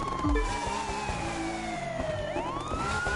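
A police siren wails from an unmarked Enzo Ferrari in the racing game The Crew 2, its tone sweeping downward and then climbing again over steady engine and traffic rumble, loud and close throughout.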